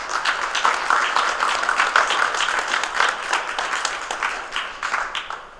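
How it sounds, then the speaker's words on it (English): An audience at a secondary school spelling bee in Grand Cayman applauds for several seconds, a full, continuous patter of many hands that tapers slightly near the end. "I think we owe them a round of applause for that."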